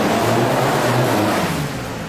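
A Volkswagen Golf TDI diesel rally car engine runs loud and close with a steady low droning harmonic, holding a constant pitch before easing slightly toward the end.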